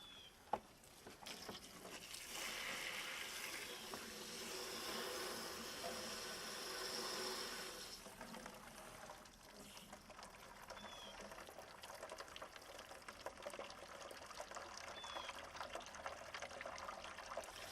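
Water from a garden hose rushes steadily through the heater core of a 2003 Ford Taurus being flushed, a constant close pour and splash that swells and eases slightly, with no one talking.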